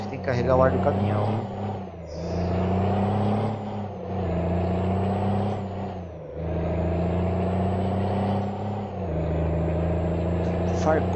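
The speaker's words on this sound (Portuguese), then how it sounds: "Carregar o ar do caminhão." A DAF truck idles with its air brake system charging, a steady diesel drone broken by periodic dips and hissing air releases roughly every two to three seconds, close and loud.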